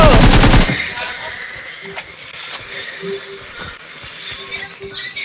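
A loud, rapid burst of enemy machine-gun fire in a shooting video game, alone at the very start, then sparse sharp distant shots and clicks scattered over quieter game ambience.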